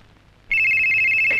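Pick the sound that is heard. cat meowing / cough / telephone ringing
telephone ringing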